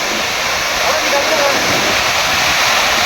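The Tarabu waterfall in Andhra Pradesh roars loud and close, a steady, dense rush of falling water that never lets up.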